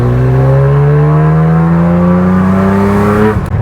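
A loud Porsche 911 SC engine with a GT3 exhaust revs steadily upward in pitch for about three seconds, close and strong, then cuts off abruptly.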